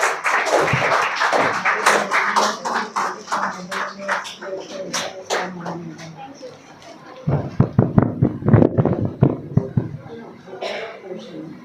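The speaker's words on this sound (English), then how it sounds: "Everyone, big round of applause for your second judge." Audience clapping for the second judge at a confidence building program at SS English Academy, irregular claps that swell into a louder burst of applause in the latter half, mixed with talk.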